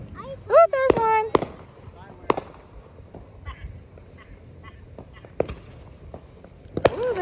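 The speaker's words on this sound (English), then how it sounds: "Hannah, you see the fireworks?" Fourth of July fireworks popping outdoors in several sharp, fairly close bangs spread irregularly through the stretch, with people talking and exclaiming over them.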